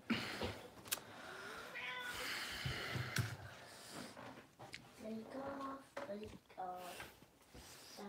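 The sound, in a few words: cat meowing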